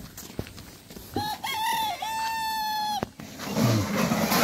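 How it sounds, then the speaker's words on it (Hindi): A rooster crows once in a long, clear cock-a-doodle-doo, loud and near, with a short sharp knock before it and faint background noise after. "कुकरुकुक मुर्गा बोल"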